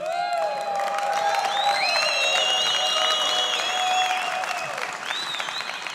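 An audience applauds steadily for several seconds, with high, sustained whistling tones ringing over the clapping.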